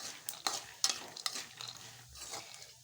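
Roasted gram is stirred in a pan for tempering, producing a faint sizzle broken by several sharp scraping and clinking strokes of a utensil in the first half, quiet and close, with no voices.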